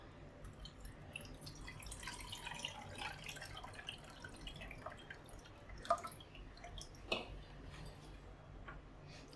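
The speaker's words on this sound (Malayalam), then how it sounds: "പുളി നന്നായിട്ട് പിഴിഞ്ഞെടുത്തിട്ടുണ്ട് നമുക്കിതിലേക്ക് ഒഴിക്കാം" Faint tamarind water trickling and dripping into a pot of rasam, soft and close, with a couple of small clinks partway through.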